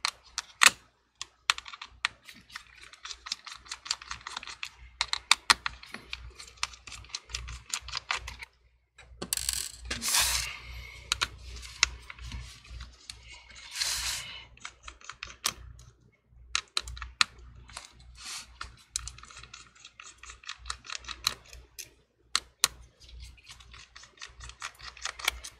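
Small Torx T8 screws come out of a MacBook Air A2337 screen assembly, giving quiet, close, irregular clicking and ticking from the driver and parts, with brief pauses between bursts.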